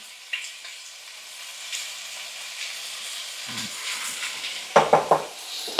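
Shrimp fry in a pan with a soft, steady sizzle, joined by a few utensil scrapes and clacks near the end, with no voices.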